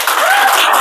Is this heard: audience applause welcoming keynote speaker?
yes